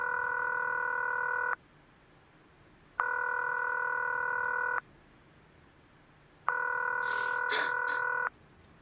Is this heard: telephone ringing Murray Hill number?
yes